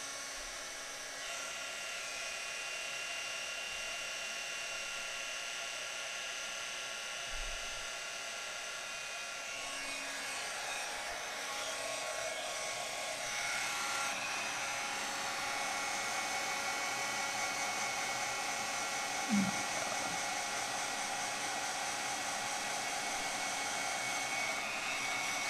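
A heat tool blows steadily while melting embossing powder on a card, a continuous faint whooshing drone held throughout at close range.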